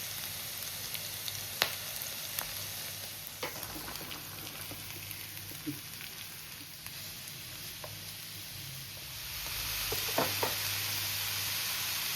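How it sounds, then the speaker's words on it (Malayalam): Ginger, garlic and green chilli frying in hot oil give a steady close hiss with scattered small pops and clicks, growing louder and fuller toward the end, with no speech. "ആവശ്യത്തിന് ഓയിൽ ചൂടായപ്പോൾ ജിഞ്ചർ ഗാർലിക്കും ഗ്രീൻ ചില്ലിയും ചേർത്ത് കൊടുത്തു."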